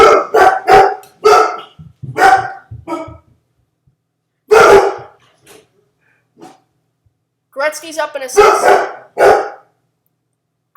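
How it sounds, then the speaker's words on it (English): Dogs barking in short, loud bursts close by, mixed in with someone talking. "Dogs!"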